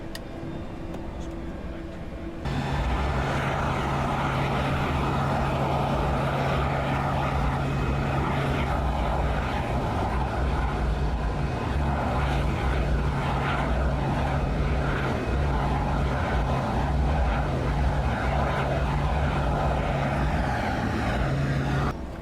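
Loud, steady aircraft noise aboard or beside the Boeing 747SP SOFIA as its flaps extend, a sustained drone with a low hum that starts abruptly after a short quieter stretch and holds constant.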